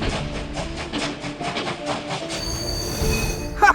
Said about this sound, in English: The police train races through the night.